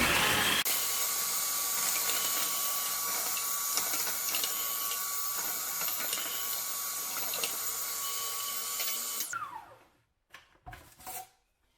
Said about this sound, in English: Put some in, and then start the processor.